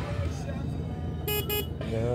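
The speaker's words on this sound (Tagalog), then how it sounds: "Busina tayo." A motorcycle horn gives two short, bright beeps in quick succession amid outdoor traffic and background voices.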